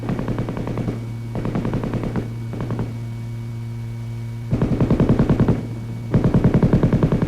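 An M-60 7.62 mm belt-fed, gas-operated machine gun fires loud, close bursts of rapid automatic shots, with short pauses and a steady hum between the volleys.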